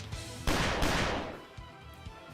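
Gunshots echoing through the halls in the video game Piofiore: Fated Memories, two loud close blasts in quick succession, each with a long rumbling decay that fades into quiet.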